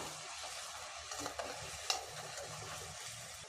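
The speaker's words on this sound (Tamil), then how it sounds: "இப்போ வெங்காயம் வந்து ஓரளவுக்கு நல்லா வதங்கட்டும்" Onions sautéing in oil: soft sizzling in a pan with a steady hiss and occasional light scrapes of stirring, quiet and continuous.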